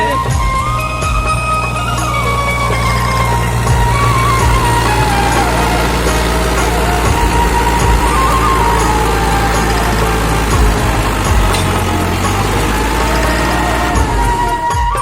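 A tractor engine running steadily during a rice paddy harvest, a loud continuous low rumble with a sustained mechanical drone and no talking.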